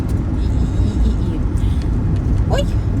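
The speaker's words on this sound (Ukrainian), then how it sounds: "Машинка, чого ж ти повертаєш так? Ти ж мене маєш пропустити." A car driving and turning on a road passes nearby as a continuous loud engine and tyre rumble, heard close from the roadside with no talking over it.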